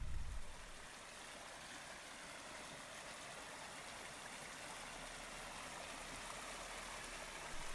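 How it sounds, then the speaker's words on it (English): A stream in the Sierras runs quietly and steadily, a soft continuous rush of water with no other sounds. "this quietly running stream that I camp next to in the Sierras."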